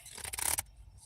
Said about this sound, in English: A few good shuffles here.